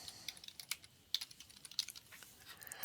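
Quiet, irregular clicking of a computer keyboard as a username is typed in to share a folder, keystrokes coming in short bursts with brief pauses, with no talk.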